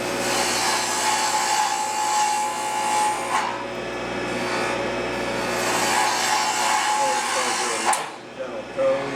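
A wood lathe spins a goblet blank while a hole gouge cuts it, giving a continuous loud rasping, humming shave with a steady motor tone and short breaks where the tool lifts off the wood.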